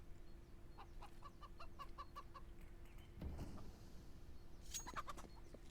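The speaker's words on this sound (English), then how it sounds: "As the chicken goes absolutely nuts." A chicken clucks in a rapid series, then squawks after a short pause, fairly faint beneath a steady background hum.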